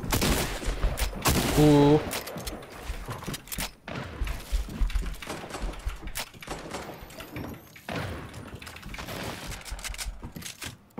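Automatic AK rifle gunfire in Fortnite Trios Arena, bursts of shots loudest in the opening two seconds, then further scattered shots under game noise, with a short exclamation from a player.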